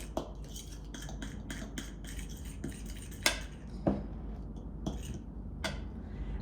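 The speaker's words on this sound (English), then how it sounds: "we're gonna go ahead and mix all the dry ingredients together right here" A spoon stirs and scrapes dry oat ingredients together in a bowl, making a run of soft clinks and scraping strokes with a few sharper taps against the rim, quiet and close with no talking.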